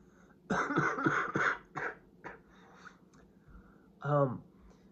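A few harsh coughs in a quick burst, close to the microphone, followed by a short pause and one more rough vocal burst.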